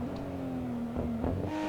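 Nissan Skyline R34 GTR engine in fourth gear in the racing game Assetto Corsa, a steady droning tone that rises slowly in pitch as the car pulls at high speed, continuous and fairly loud, with brief tire and road noise near the end.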